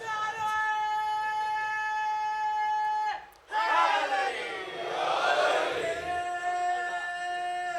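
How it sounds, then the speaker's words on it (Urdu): A crowd at a religious gathering in Jheuranwali, Gujrat, chants slogans together, first as a steady sustained tone, then after a brief gap as a louder, fuller surge of many voices. "یہاں اب یہ سادہ سادہ لوگ نعرے لگا رہے ہیں"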